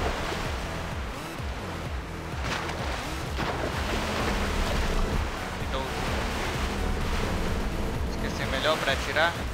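A black storm wind at sea in the video game Black Desert Online: a dense rush of wind and surging waves, swelling and hissing throughout, with faint higher chimes near the end.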